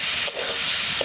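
Potatoes frying in a pan with chili paste, cumin, coriander and ginger for a potato curry, giving a steady close hiss and sizzle throughout with a couple of brief louder pops.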